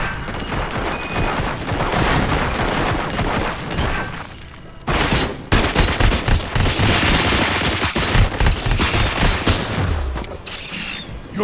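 Heavy gunfire in RoboCop: Rogue City, sustained automatic bursts with booming impacts and crashing debris, briefly pausing around the middle before resuming loudly for the rest.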